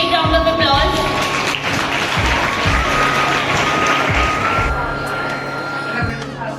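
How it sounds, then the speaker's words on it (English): Crowd applause at a school Independence Day event, a loud, steady wash of clapping throughout, with scattered louder thumps and a low background hum. "Give her a big round of applause."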